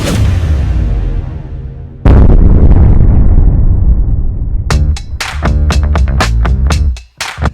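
A deadly house explosion caught in news footage, heard as a loud booming blast with a long rumbling decay, then a second sharp blast and a rapid string of cracking bursts and pops.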